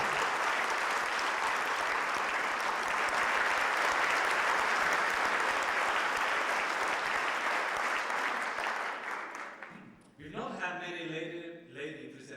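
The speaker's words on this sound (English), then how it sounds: "I think a round of applause will be appreciated" Party guests break into sustained applause, a thick, even roar of clapping for about ten seconds before it thins out and a voice starts talking over the tail.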